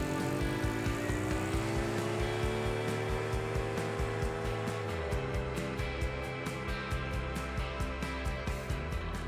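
A 2x2 Scout ATV motorbike engine runs flat out at top speed in third gear: a steady, loud, close droning whine whose pitch climbs slowly, with a lower shift in tone about halfway through and no talking.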